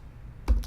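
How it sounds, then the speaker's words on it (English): A single quick keystroke clicks on a computer keyboard, close and crisp, with a soft second tap just after and no voice. "I'm going to start typing text"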